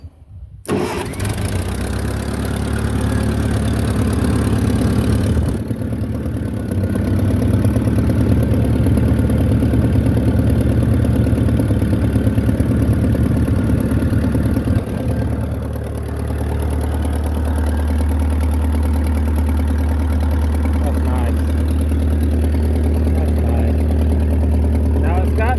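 Old Ferguson TO30 tractor engine cranking and catching, then running steadily at a loud, close, rough idle for the whole stretch, with a voice talking faintly beneath it.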